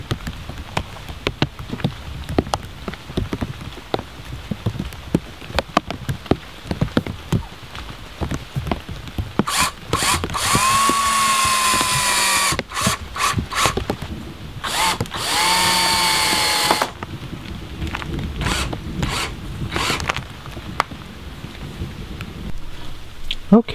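A power drill drives small screws through a rubber door weather strip on a tiny house door, its motor whirring in two sustained bursts of several seconds each amid scattered handling knocks and clicks.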